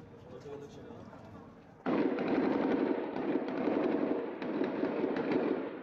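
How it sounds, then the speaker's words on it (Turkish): Dense, sustained bursts of rapid gunfire crackle through city streets during an attack on police, loud and continuous after a sudden onset, with voices faintly audible underneath. "Sokaklar silah sesleriyle yankılandı."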